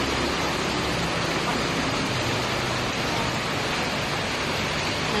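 Heavy rain pours down in a dense, constant hiss, loud and uniform with no breaks, like a downpour drumming on surfaces close by.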